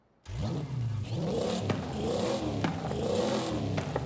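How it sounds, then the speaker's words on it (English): In Forza Horizon 5, a car engine with a stock flywheel revs up from idle, climbing steadily in pitch over a few seconds with brief dips between pulls, mechanical and fairly clean. "That's a stock flywheel, and you can hear that it takes a bit of time to actually wind up"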